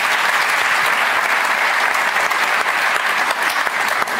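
Dense, steady applause from a live audience at a football discussion event, loud and unbroken throughout with no talk over it.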